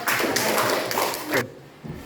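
Classroom applause for a student's answer, a short burst of many hands clapping close by that cuts off abruptly, followed by quiet room tone.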